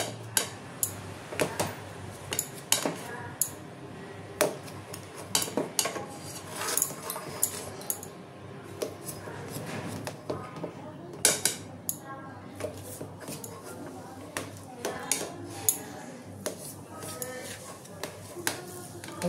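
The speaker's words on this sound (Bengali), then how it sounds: "ধোকাটা এবার আমি পিস পিস করে কেটে নেব।" A steamed lentil cake (dhoka) is cut into pieces with a knife in a kitchen, giving repeated uneven taps and clicks against a board or plate, with someone speaking between the cuts.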